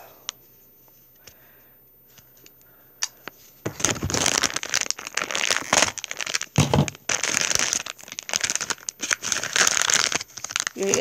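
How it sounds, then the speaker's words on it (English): A knife slices open a plastic blind bag holding a DC keychain figure. A few faint ticks come first, then close, dense crinkling and crackling of plastic continues to the end. "I'm going to cut it open here. With, of course, my trusty Batman knife."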